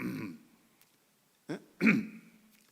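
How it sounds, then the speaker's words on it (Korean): A person clears their throat a couple of times, short gruff rasps separated by brief silence, close by. "헛기침으로 내가 지금 들어서려고 한다는 걸 알려주었잖아요."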